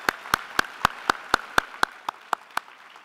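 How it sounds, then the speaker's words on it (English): Slow, evenly spaced claps at a law school graduation ceremony, about a dozen crisp single hand claps in steady rhythm, close and fairly loud with no voices. "So another round of applause to all of our family and loved ones."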